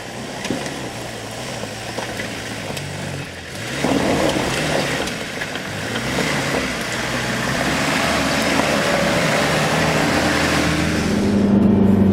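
4WD vehicles grind up a steep loose-rock section of the Chromite track near Walhalla; a steady engine drone, which swells louder partway through and holds there, plays with no talking.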